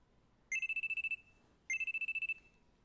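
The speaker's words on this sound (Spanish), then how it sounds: "Estoy durmiendo en el, en el sofá cuando una alarma dura suena en mis oídos." An electronic alarm rings in the visual novel game Steins;Gate, two separate bursts of rapid trilling beeps, clear but fairly quiet against silence.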